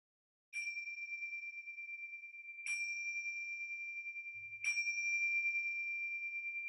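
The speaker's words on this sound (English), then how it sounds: "So we'll begin and end with the bell." A meditation bell is struck three times at an even, unhurried pace, each clear ringing tone sustaining and overlapping the next, alone in a quiet room.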